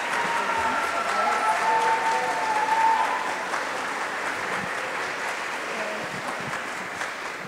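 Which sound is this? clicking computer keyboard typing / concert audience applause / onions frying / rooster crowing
concert audience applause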